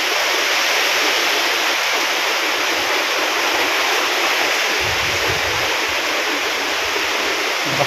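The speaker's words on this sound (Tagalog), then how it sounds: "Lakas pa naman ng current." A strong current of floodwater during Typhoon Tino roars loudly and continuously, a dense, even wash of sound with no pauses.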